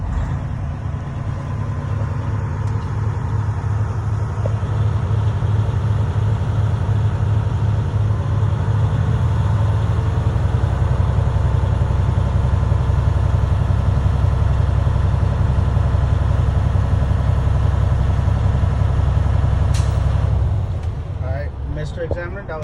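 Freightliner Cascadia semi truck idling in the cab while building air pressure, a loud steady low diesel rumble throughout with a brief hiss near the end, and a person talking over it.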